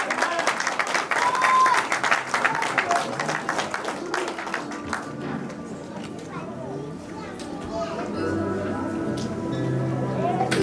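A wedding congregation bursts into loud, dense applause in a church, the clapping strongest early, then thinning as voices and chatter rise beneath it.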